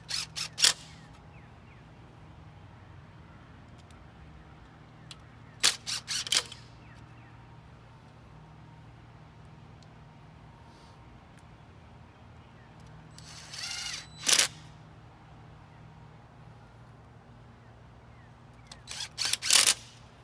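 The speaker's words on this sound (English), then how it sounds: "we're going to go ahead and screw those right in to secure them" A power drill driving screws to fix a wooden trellis in place, in four short separate bursts of buzzing whir spread over the stretch, close and fairly loud against a quiet low hum, with no talking.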